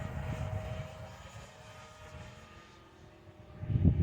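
An FMS Futura 64mm electric ducted fan RC jet makes a tailwind fly-by, a faint distant whine and rush that swells sharply loud as it passes close near the end, with no talking.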